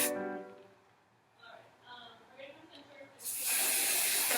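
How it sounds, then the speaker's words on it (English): Hairspray sprayed around a dancer's hair, a loud, close, steady hiss that starts abruptly after a quiet stretch with faint voices in the background. "Then the last finishing touch is you take some hairspray."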